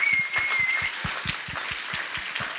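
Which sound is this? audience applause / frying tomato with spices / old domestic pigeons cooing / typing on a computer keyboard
audience applause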